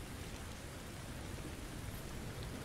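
Steady rain falls in the video game Neither Day nor Night, a dense, even hiss that continues unbroken with no talking.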